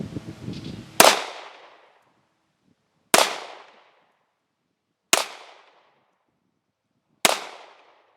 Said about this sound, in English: let's take a few shots here with it and see how it runs